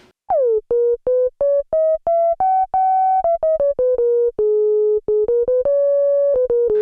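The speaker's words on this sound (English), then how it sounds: "now you have a new, really pure waveform that's similar to a sine wave." A Poly D synthesizer plays a pure, sine-like tone in a stepped melody of short and held notes, rising then falling in pitch, clean and loud with no other sound.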